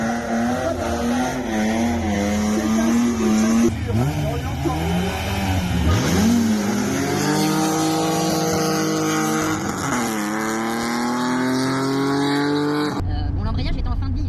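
Peugeot 106 rally car engine revving and pulling hard, pitch climbing and dropping through gear changes, loud and continuous, with someone talking over it.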